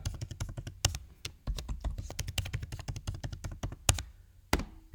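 Password typed on a computer keyboard: rapid, uneven clicking keystrokes in quick bursts, close and clear, with a few heavier key thunks.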